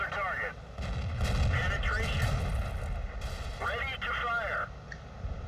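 Tank cannons in World of Tanks boom in heavy repeated blasts during battle, firing on nearby allied tanks, while someone talks over the gunfire throughout.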